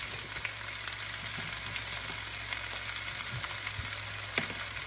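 Potatoes frying in a pan for potatoes paprikash give off a steady, close sizzle that stays even throughout, with a few faint clinks and no talking.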